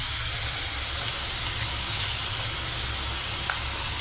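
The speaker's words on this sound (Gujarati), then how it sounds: "તેને હલાવીને મિક્સ કરી લઈશું" Okra frying in a pan with salt and turmeric gives a steady, close sizzling hiss that holds level throughout, with faint stirring scrapes mixed in and no talking.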